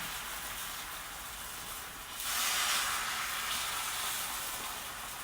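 Egg omelette mixture frying in a hot pan for a full-size half-moon omelette, a steady close hiss that swells louder midway and then holds as a continuous sizzle.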